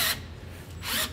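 Power drill briefly run while adjusting a ProPride 3P weight distribution hitch, two short whirring bursts at the start and end with a low steady hum between, close and fairly loud, no talking.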